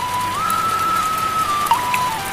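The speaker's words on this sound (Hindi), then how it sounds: "बारिश रुकने का नाम नहीं ले रही थी।" Steady rain pours on a mud hut beside a pond in an animated Hindi story, a soft even hiss with a thin sustained whistling tone over it and no speech.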